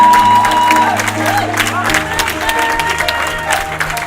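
A church congregation at a French-language service breaks into loud, continuous clapping mixed with cheers and whoops that fill the room for the whole stretch.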